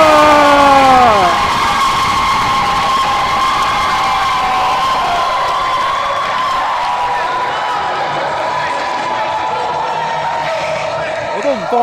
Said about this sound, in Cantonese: 後邊嗰啲歡呼聲太勁啦！